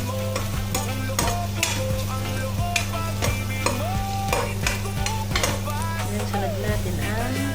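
Chicken pieces frying in a pan toward golden brown, a continuous sizzle with repeated scraping and stirring knocks of a utensil against the pan, close and steady under a low hum.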